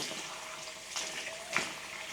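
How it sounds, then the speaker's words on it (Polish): Tap water runs steadily as a child's hands are washed with soap at a sink, a soft continuous splashing with a couple of brief louder splashes. "Myjemy ręce, same wodę."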